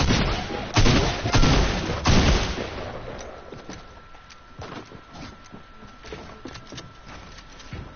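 Fortnite minigun fire opens with loud dense bursts of rapid shots, then thins to scattered fainter cracks and clicks in the background.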